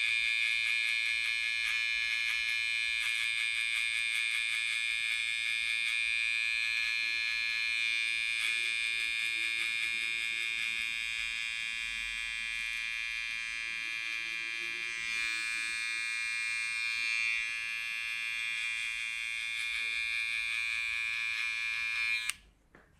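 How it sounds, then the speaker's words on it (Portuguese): An electric hair trimmer buzzes steadily and close up while outlining a high fade flat top haircut, holding one bright tone for about twenty seconds before cutting off abruptly at the end. "Maquininha de acabamento"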